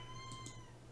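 Two brief, faint meows from a cat sound in quick succession over a steady background hum, with no talking.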